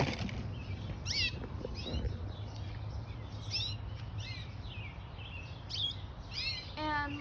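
Pet birds chirping in a decorated indoor cage, giving repeated short bright tweets scattered over a steady background hum, fairly close and moderately loud, with no clear talk.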